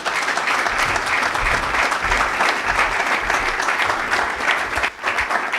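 An audience at a TradeMark Africa launch event in Ghana bursts into sustained, dense applause after a speech, many hands clapping steadily with a brief dip near the end.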